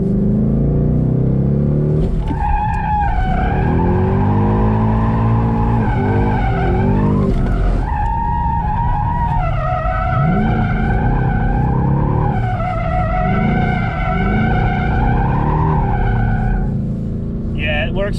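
Ford Mustang drifting with a drift handbrake locking the rear wheels, its tires skidding and squealing loudly under a revving engine, with voices talking over parts of it.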